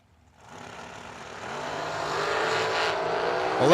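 A drag racing dragster launches and runs down the strip, engine roar swelling from near silence into a loud, rising wail that builds steadily, with no voices over it.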